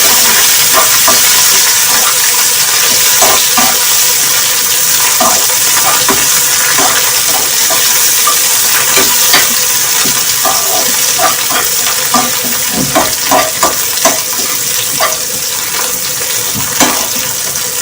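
Tadka being tempered for aloo palak, with garam masala added to the hot oil, fries in a pan with a steady close sizzle and scattered clicks and scrapes of stirring throughout, with no talking.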